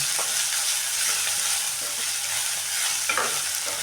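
Chopped onions frying in oil for onion sagu, a continuous close sizzle with soft stirring scrapes and a brief louder stir near the end, heard alone without talk.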